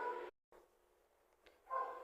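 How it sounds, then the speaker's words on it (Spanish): A small dog barks nearby in a house, two short bursts separated by a quiet gap, fairly loud against a still room. "Ahora un perrito se puso a ladrar aquí"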